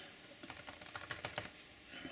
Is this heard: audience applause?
no